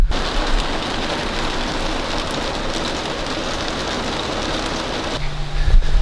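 Rain beginning to fall outside a sailboat, reaching through an open window upstairs: a steady, close, broadband patter and hiss that runs on evenly, then gives way near the end to a low, steady hum.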